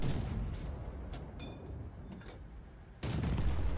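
Tank cannon fire in World of Tanks on the El Halluf desert map, with a StuG and artillery shooting during a Churchill III battle: loud booming shots opening and closing a rumbling stretch of distant gunfire, with no talk.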